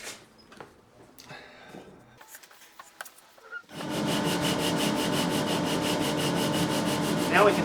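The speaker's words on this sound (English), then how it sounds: "Now we can sand to very, very close to our final neck width" A guitar neck being sanded down close to its final width, with light rubbing and tapping at first, then a loud, steady scrubbing of abrasive on wood that runs continuously to the end.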